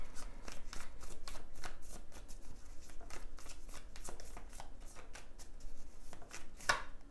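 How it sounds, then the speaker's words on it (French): Tarot cards shuffled and handled at close range, a steady run of quick papery riffles and flicks lasting several seconds with no voice. "Je vais rajouter une carte."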